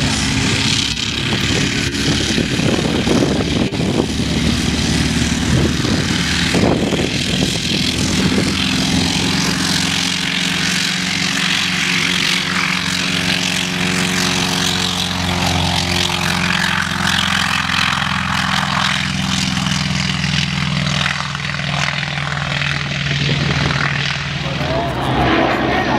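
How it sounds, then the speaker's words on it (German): A North American T-28 Trojan with a 1400 hp propeller engine flies at a German airshow, its loud droning roar steady throughout while an announcer talks over it. "Das ist eine North American T28 Royal mit"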